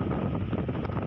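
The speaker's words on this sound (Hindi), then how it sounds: "उधर बलूचिस्तान के जिला लसबेला में भी तेज हवाएं चल रही हैं और समंदर शोर मचा रहा है।" Strong wind and a roaring sea batter the coast of Lasbela district, Balochistan, as a cyclone approaches: a dense, steady rush of wind buffeting the microphone over low surf rumble, loud and continuous throughout.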